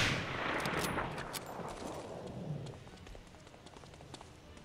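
Gunfire in the World War II shooter Medal of Honor: Allied Assault, with a loud opening blast that decays into a steady wash of distant shots and crackling battle noise.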